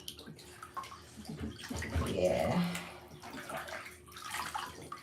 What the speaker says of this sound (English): It feels good to be in a nice warm bath right now.